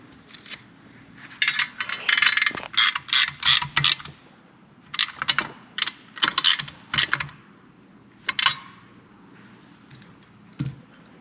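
Bolts being snugged down on a Chevelle shifter conversion for a GM transmission, giving bursts of close metallic ratcheting clicks in quick runs separated by short pauses.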